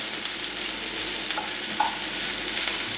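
Onions seasoned with salt and pepper cooking over low heat in a pan, a constant close hiss of gentle sizzling with faint occasional pops, no talking.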